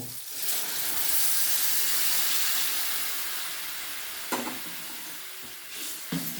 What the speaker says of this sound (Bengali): আমি কিন্তু এখানে ঠান্ডা জল ব্যবহার করব না, গরম জলটাই দেব।